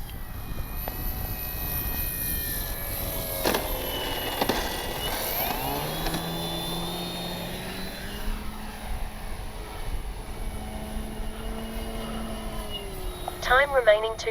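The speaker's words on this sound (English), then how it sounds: "this is not a 3D plane, but it sure does some crazy maneuvers" An Avios Grand Tundra V2 RC plane flies in windy conditions, its propeller-driven electric motor whining and shifting pitch as it maneuvers, with gusty wind noise throughout and a voice speaking over it.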